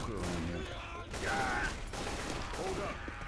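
Gunfire from the video game Left 4 Dead 2 rattles in dense continuous bursts amid game noise, with voices talking over the shooting.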